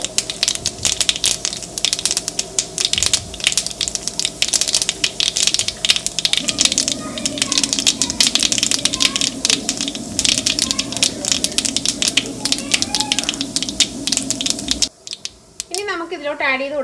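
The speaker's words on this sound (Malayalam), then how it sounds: "ഇനി നമുക്ക് ഇതിലോട്ട് 1 ടീസ്പൂൺ കടുക് ആഡ് ചെയ്ത് കൊടുക്കാം." Mustard seeds crackle and pop in hot oil while a Kerala-style duck curry is being made, a dense burst of sharp sizzling snaps that keeps going under a few words of speech before cutting off near the end.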